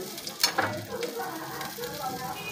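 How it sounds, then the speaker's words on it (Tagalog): Oil heats in a frying pan with a steady crackling sizzle, a few sharper pops near the start, continuing at a moderate level throughout. "nagpakulo na tayo ng mantika sa kawali"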